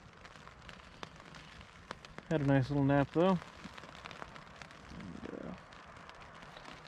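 Rain keeps falling outside a tent on a Mogollon Rim camping trip, a soft continuous patter with scattered drops and ticks, while a person speaks briefly close by in the middle.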